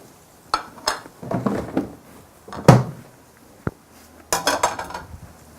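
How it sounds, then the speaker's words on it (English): A spoon clanks and scrapes against a metal pot while pre-cooked okra is stirred into orange-flesh sweet potato masala, loud irregular bursts of knocks and clinks separated by short pauses. "Just stir it into the masala mixture so that it becomes part of the dish."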